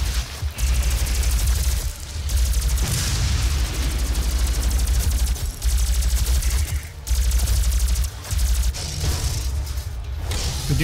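Sustained bursts of rapid gunfire in the video game Doom 4, loud rattling volleys with short pauses between them, heavy booms underneath.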